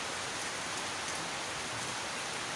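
Steady, dense rain falls in a flood-prone neighborhood early in the morning, a constant hiss of drops hitting surfaces with no pauses and no voices.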